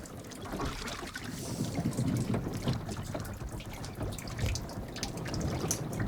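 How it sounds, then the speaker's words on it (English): Water sloshes and gurgles against a sailboat hull in a steady, close wash, with small splashes and creaks rising and falling over a low rumble. "this is part of the evolution of the sound of the boat"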